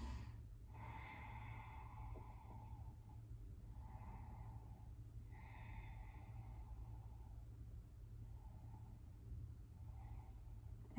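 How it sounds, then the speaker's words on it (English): Slow, deep breathing during a Kundalini yoga session: faint, soft inhale-and-exhale cycles repeat at a relaxed pace over a low steady hum. "Okay, breathing deeply."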